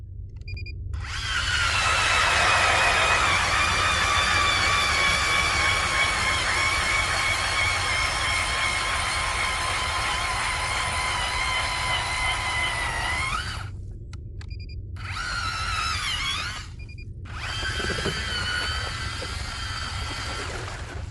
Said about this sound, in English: Now, let's see the auger at work.